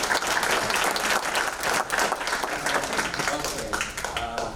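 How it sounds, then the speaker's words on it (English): An audience at a film festival talkback applauds, a sustained wash of many clapping hands that fills the room and lasts throughout. "Applaud them."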